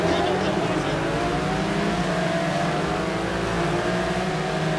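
Porsche GT3-RSR race cars roar hard off the start at Surfers Paradise, a dense, loud, sustained engine blare with layered rising tones, under a commentator's voice.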